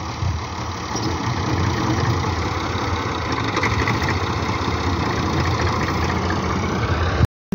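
A 510 model tractor runs at a steady, rumbling diesel idle, loud and close throughout, with a slightly knocking texture, then cuts out abruptly at the end; no voices are heard.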